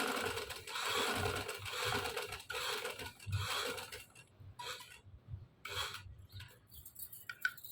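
A sewing machine stitches the top of a collar neckline in quick, rattling bursts, running steadily at first and then in short separate spurts with pauses between them, close by.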